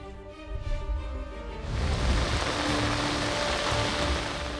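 Torrential monsoon rain pours down in Lahore during an eight-hour spell, a loud steady hiss of heavy rain drumming on surfaces that surges in after a short tonal lead-in and then holds without a break.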